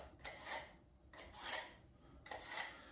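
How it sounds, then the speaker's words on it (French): Kitchen knife blade drawn through the coarse first slot of a two-stage manual knife sharpener, three rasping metal strokes in a steady rhythm, close and quiet with no talking. "On a juste à faire passer le couteau comme ça."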